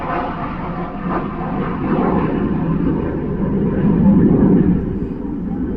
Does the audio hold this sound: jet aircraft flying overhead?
yes